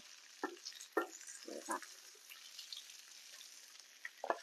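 Pork stir-fried in a pan for Thai holy basil pad kra pao: a faint, steady sizzle broken by several scraping stirs of a spatula, with no talk.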